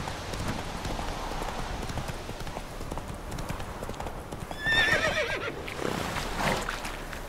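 In The Witcher 3, a horse's hooves clip-clop steadily over the ground, then the horse lets out a short, clear neigh midway before the hoofbeats carry on.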